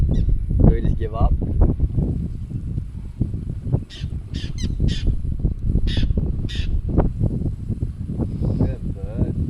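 A crow cawing near a boat on the water during a spearfishing trip, several harsh caws in short bursts under steady engine or wind noise and people talking.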